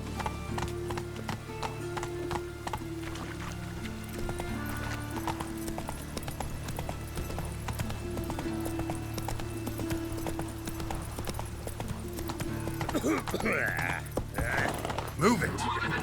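Horse hooves clip-clop steadily in The Witcher 3, an even trotting rhythm running throughout at moderate level over a low background hum, with a brief voice near the end.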